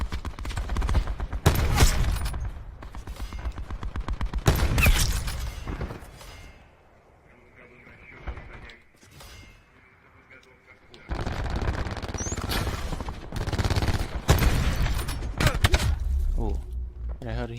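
Bursts of gunfire from the Outlaw rifle in a shooter video game, loud clustered shots in the opening seconds, a quieter lull in the middle, then more heavy firing near the end.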